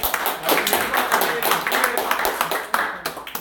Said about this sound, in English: let's applause to all those people for today